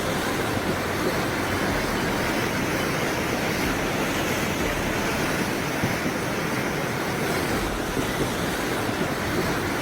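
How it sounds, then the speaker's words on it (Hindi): Roaring floodwater from heavy monsoon rain in Mendhar, Jammu and Kashmir, a loud, steady broadband rush that continues unbroken and close throughout, with no voices. "मॉनसून किस कदर विकराल रूप ले चुका है, उसका अंदाजा पानी की आवाज सुनकर और इस तस्वीर को देखकर लगा सकते हैं"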